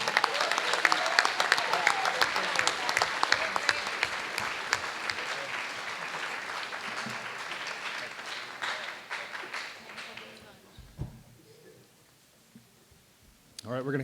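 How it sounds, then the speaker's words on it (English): A school board meeting audience applauds the Cougars, a sustained round of many hands clapping that fades out near the end, with a voice speaking over it. "Another round of applause for the Cougars."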